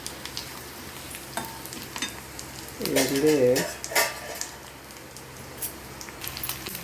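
Oil sizzles steadily while sun-dried vegetable crisps are fried and stirred with a utensil, with a few clinks against the pan and a brief voice speaking partway through.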